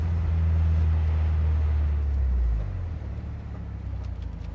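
A 1986 Porsche 944 engine hums at a low, steady drone around 3,000 RPM while driving, the note easing down partway through as road noise continues.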